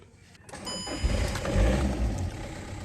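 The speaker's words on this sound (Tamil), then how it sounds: "பக்கா வண்டி சூப்பராக ஸ்டார்ட் ஆகிடுச்சு" A Skoda Laura car engine cranks and catches, then settles into a steady low running rumble close by.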